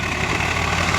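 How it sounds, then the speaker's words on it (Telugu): A tractor ploughs a village paddy field. Its engine gives a steady, low, rumbling drone at moderate distance, with no voices. "ఇక్కడ దున్నుతున్నారు ట్రాక్టర్ తోటి."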